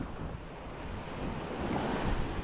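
Sea waves surging and washing close by from a boat, mixed with rushing wind buffeting the microphone, steady and fairly loud.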